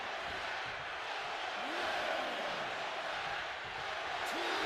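Capacity crowd in the wrestling video game WWE 2K25 roars with sustained cheering, a dense wash of noise with a few rising shouts, steady throughout.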